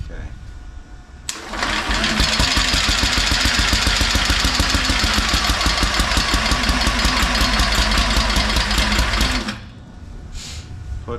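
A mini radial engine fires up and runs hard for about eight seconds, a loud, dense, rapid buzzing clatter up close, then cuts out abruptly. Faint talk is heard before and after the run.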